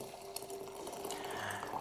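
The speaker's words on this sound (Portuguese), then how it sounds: "Eu acabei de ferver uma água, eu vou passar para essa chaleira." Freshly boiled hot water being poured into a kettle for brewing coffee, a steady close trickle and splash of liquid filling the vessel, continuous and fairly quiet throughout.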